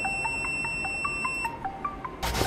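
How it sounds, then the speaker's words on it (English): Buzzer test on a WinWing ORION2 HOTAS F-16 flight stick: a series of short, evenly spaced electronic beeps, roughly a dozen in two seconds, close and clear over faint room noise, ending in a brief burst of noise. "And of course, you can test the buzzer."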